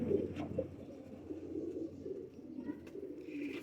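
Banded pigeons cooing, a soft low continuous murmur of several birds close by, steady throughout with a few faint higher chirps.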